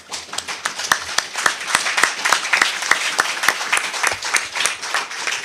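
Audience applause at a parliamentary gathering, many hands clapping in a dense, lively burst with some distinct sharp claps standing out, close and sustained throughout.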